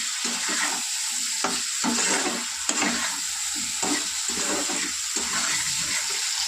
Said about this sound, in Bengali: এবার বেশ করে কষাবো।